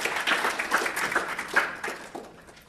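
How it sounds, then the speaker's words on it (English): Audience applause at a university research pitch event, a steady patter of many hands clapping that swells near the start and tapers off toward the end, with no talking over it. "we're going to give them a round of applause"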